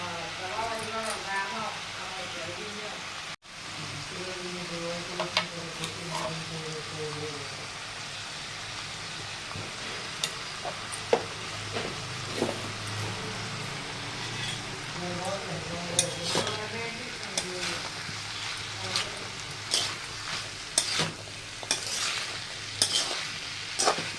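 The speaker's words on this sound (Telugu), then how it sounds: "కర్రీ మీద వేసేసుకొని బాగా కలపెట్టుకోవాలి" Broad bean (chikkudukaaya) curry stirred in a pan, a continuous sizzle broken by repeated scraping and clinking of a utensil against metal, busier toward the end, with voices partly audible.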